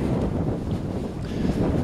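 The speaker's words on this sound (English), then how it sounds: "It's quite cold, fairly windy, but dry." Steady wind blusters across the microphone on a cold, dry winter walk along the north-northwest coast of an island, a continuous low rumbling roar with gusty swells and no voices.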